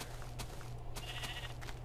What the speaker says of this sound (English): Oh, hey, look, another sheep.